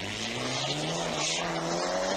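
Rally cars race past at full throttle, a steady loud engine roar with a sustained tonal drone and faint tyre noise, no voices over it.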